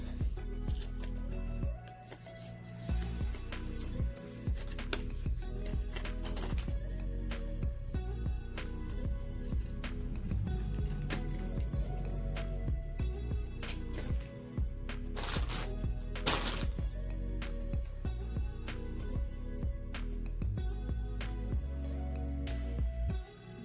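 Scissors cutting folded paper into a tag shape for a junk journal, continuous close snipping and paper rustling throughout with no talk.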